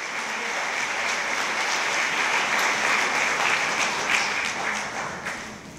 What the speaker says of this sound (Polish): Wielkie brawa dla Wojtka Wójcika.